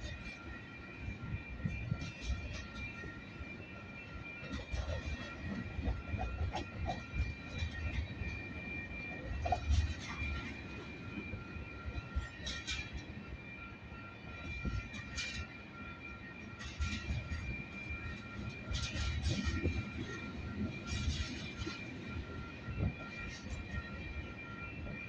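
A freight train rolls past at a distance with a low continuous rumble and scattered metallic clanks and rattles.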